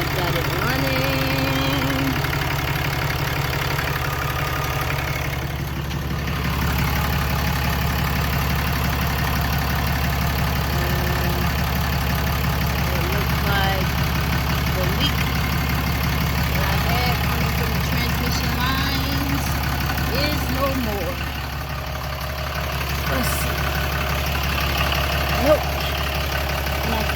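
A Ram 3500 pickup truck's engine idles steadily after its transmission coolant lines were replaced, a continuous low rumble close by with only slight dips in level.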